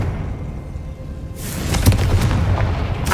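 A Confringo blasting spell in Hogwarts Legacy goes off as a sudden deep boom. It is followed by a rumbling crackle and scattered impacts, loud and close, with no voices.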